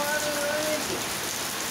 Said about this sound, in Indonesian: Tidak datang ini pada kerja iya, hujan ini.